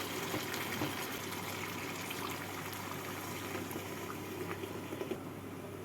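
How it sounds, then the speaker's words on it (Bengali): Hot water is poured into a pot of chicken kalia curry, producing a steady, soft bubbling and gushing liquid wash that runs throughout, fairly quiet and without talk. "এবার এর মধ্যে আমি দিয়ে দেবো তিন কাপ গরম জল"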